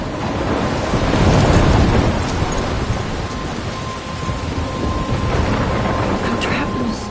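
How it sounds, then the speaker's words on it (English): Rain pours steadily through a thunderstorm in the Life is Strange video game, with a heavy rumble of thunder swelling early and a wash of downpour continuing throughout. "I'm trapped in a storm?"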